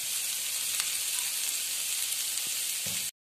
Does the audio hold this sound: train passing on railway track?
no